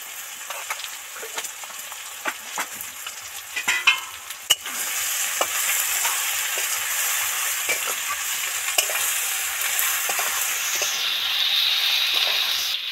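Spices, turmeric and chili powder, fry in hot oil for a small-fish curry, a steady close sizzle and hiss broken by scraping stirs of a spoon in the pan, growing louder toward the end.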